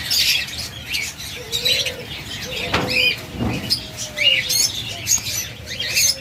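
A yellow pair of caged pet birds offered for sale chirps and tweets in repeated sharp bursts, with other birds calling in the background.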